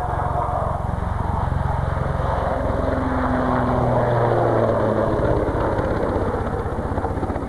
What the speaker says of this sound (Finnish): Lähestyminen meni hienosti ja nyt tulee pystykäännös helikopterilla.